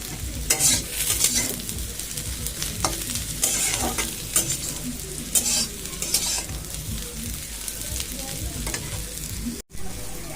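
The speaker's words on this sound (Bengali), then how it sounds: "পেঁয়াজ আর শুকনো লঙ্কা ভেজে নেবো এই কড়ার মধ্যে না আরেকটা অন্য কড়াতে ভাজবো" Onions and dried red chilies fry in oil in a wok, with a continuous sizzle broken by bursts of stirring and scraping, close and fairly loud, with no voices.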